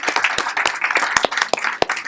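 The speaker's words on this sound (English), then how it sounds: "Please, a round of applause for our mayoral candidates" Audience applause for mayoral candidates at a Mesquite, Nevada candidates forum, dense steady clapping with a few sharp individual claps standing out, sustained and fairly close throughout.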